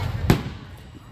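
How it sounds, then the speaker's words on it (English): A single carnival firework bursts once, a sharp loud broadband crack that fades quickly into low crowd rumble and distant murmur. "Wow, it's been 25 minutes, maybe a half hour of fireworks."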